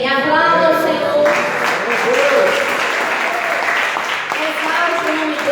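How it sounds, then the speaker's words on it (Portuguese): A church congregation applauds during a worship service, a steady loud wash of clapping with voices and music running underneath throughout. "Aplauda o Senhor."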